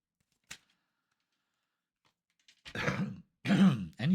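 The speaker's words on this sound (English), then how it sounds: "So I don't know why I coughed there." A single short cough, then a person clearing the throat with rough, throaty bursts, close and fairly loud against silence.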